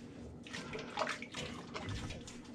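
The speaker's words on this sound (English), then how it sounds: "Let me wash my face real quick and do a second pass." Water splashing and running as a face is washed at a sink during a shave, a soft close burble with uneven splashes throughout, quiet overall.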